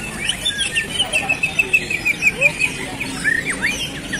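Songbirds chirp and trill steadily at a bird-singing contest in Balekambang park, with a bright repeating song line running throughout over a low crowd murmur.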